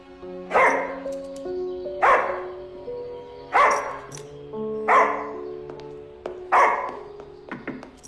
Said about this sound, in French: Il aboie beaucoup, mais il n'est pas méchant.